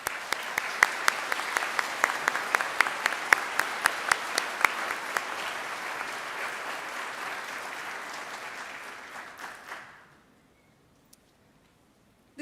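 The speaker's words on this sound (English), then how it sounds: "why don't you give them a well-deserved round of applause?" A graduation ceremony audience applauds the families of graduates, a sustained round of many hands clapping with a few sharper nearby claps, steady for about ten seconds before fading quickly into near silence.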